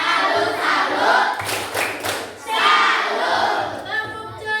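A school class performs a salute clap together, a few sharp group claps mixed with loud, excited chanting voices and crowd noise in a classroom.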